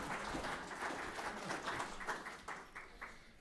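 Faint applause from an audience at a candidate forum, a scattered patter of many hands clapping at a distance that gradually thins out into a few last separate claps.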